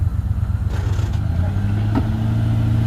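An old Ford Bronco with a freed-up rusted engine, a gas leak and no brakes idles roughly while backing up, its low droning hum rising briefly in pitch partway through, with faint voices nearby.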